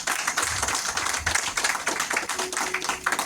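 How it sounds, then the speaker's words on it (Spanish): A church congregation claps steadily through the whole stretch, a dense, continuous patter of many hands in a worship service, with no voices rising above it. "Dale otro aplauso al Señor, aleluya."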